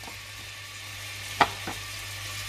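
Garlic, red and green peppers and a piece of onion frying in a pan, a steady soft sizzle throughout with a couple of brief sharp clicks from stirring or a utensil.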